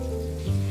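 Steak frying in a pan, a brief, steady sizzle with a low hum running under it.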